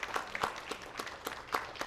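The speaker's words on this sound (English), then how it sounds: "let's give Tom a round of applause" Scattered clapping from a small group, uneven and fairly quiet, with a few sharper claps standing out.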